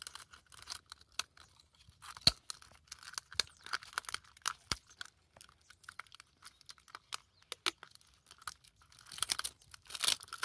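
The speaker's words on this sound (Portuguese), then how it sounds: "E vamos passar a fita," Adhesive tape is pulled off the roll and pressed onto plastic wrapped around rose cuttings, giving sharp intermittent crackles, rips and crinkles in short bursts that cluster toward the end, close and fairly quiet with no talk.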